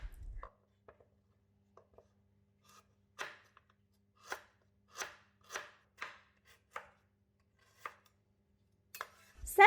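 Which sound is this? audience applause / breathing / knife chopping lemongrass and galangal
knife chopping lemongrass and galangal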